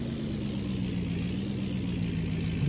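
A truck in a farming roleplay video game idles and rolls with a steady low diesel rumble and a faint high whine on top, continuous and fairly close, with no talk.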